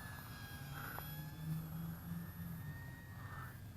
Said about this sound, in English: Let's bring it around and just do a turn around us, showing it up close. Porpoising it. Reducing that throttle.